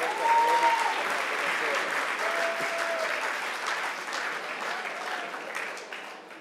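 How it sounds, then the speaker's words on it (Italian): A crowd at a political party founding meeting claps steadily in sustained applause that fades gradually toward the end. "Un grande applauso."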